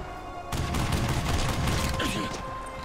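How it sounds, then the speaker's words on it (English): A thermobaric launcher fires in the video game Red Faction, with a sudden loud blast followed by a dense stretch of explosive rumble and crackling gunfire. "Is that the thermobaric launcher? It is! It does so much damage."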